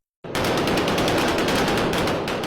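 Rapid gunfire salute fired by fellow soldiers at a military funeral in Tripoli, a loud sustained burst of many overlapping shots close by, with no voices.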